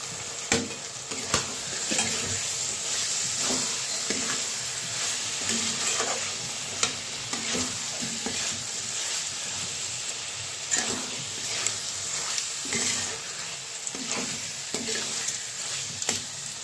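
Boiled broad beans stir-fried in spice masala for a potato curry, with a steady close sizzle and repeated scraping of a spatula against the pan at an even rhythm.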